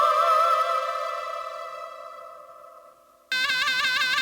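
Regular piano voice on a mobile keyboard organ app: a single struck chord decays gradually for about three seconds before a new bright, buzzy tone cuts in sharply, with no talking.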